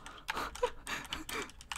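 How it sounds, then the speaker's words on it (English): Quick bursts of keyboard typing on a computer during Sims 3 play, uneven clusters of clicks heard up close with faint breathy sounds between them. "I'm struggling to type right now."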